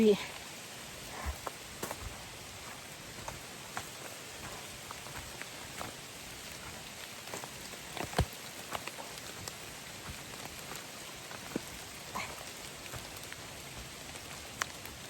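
Heavy rain falls steadily outdoors on a rough forest trail, a constant wash of noise with scattered drips and light rustles, faint and even throughout.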